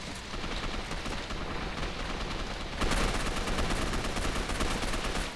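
Sustained, dense gunfire in the video game Gotham City Impostors, a continuous rattling barrage that grows louder about halfway through, with no talking.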